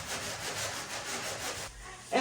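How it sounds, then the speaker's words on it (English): Medium coarse sanding block or sponge rubbed back and forth over a surface during a bathroom makeover, a steady close scratchy rasp that runs continuously and stops near the end. "So I'm gonna go ahead and try to sand it down with this."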